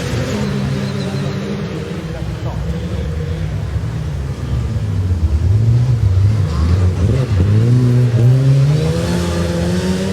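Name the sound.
race cars accelerating off the start, Race of Champions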